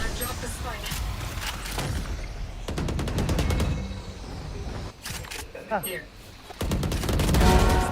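Valorant gunfire crackles in rapid bursts of automatic shots, with a loud spray in the middle and another heavy volley near the end, amid constant game noise and voices talking over it.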